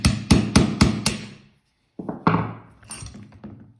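A small hammer strikes an 1858 revolver during disassembly: five quick, sharp metallic taps, a short pause, then several more uneven knocks with clinking, close and loud.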